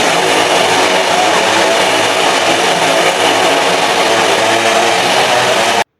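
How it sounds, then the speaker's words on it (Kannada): A motorbike ridden inside a circus well of death roars continuously, loud and close, a dense sustained engine drone with little variation that cuts off abruptly at the end. "ಇದ್ರ ಒಳಗಡೆ ಬೈಕ್ನ ತೊಗೊಂಡು ರೈಡ್ ಮಾಡ್ತಿದ್ದಾರೆ"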